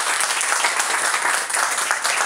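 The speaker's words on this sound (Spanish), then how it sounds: "Aplausos" Dense, even applause from an audience at a gathering, greeting a new volunteer with a continuous wash of many hands clapping at once, loud and steady from start to finish.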